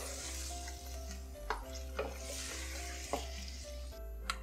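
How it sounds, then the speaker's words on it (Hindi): Chicken sizzles and fries in a pot for Shahjahani biryani while it is stirred, with a constant hiss and soft periodic scrapes and clinks of the spoon against the pot. "चिकन डाल के अच्छे से मिक्स करेंगे।"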